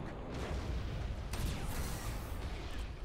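Torpedo impacts in the space strategy game Battlefleet Gothic: Armada, a dense, continuous rumble of muffled booms and blasts with a sharper burst partway through, loud and steady throughout.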